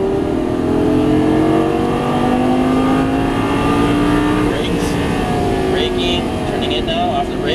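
A Lamborghini Gallardo accelerates on a race track, its engine pitch climbing in sweeping rising tones that stay loud and continuous, with an instructor's voice talking over it.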